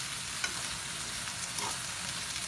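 Green peas frying with bell pepper in a pan give off a moderate, steady sizzle, with a couple of faint stirring knocks and no talking.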